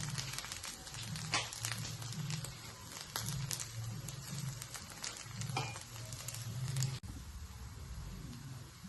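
An upvas dhirade fasting pancake sizzles steadily on a hot pan, a close, continuous crackle with small pops and a brief scrape near the end.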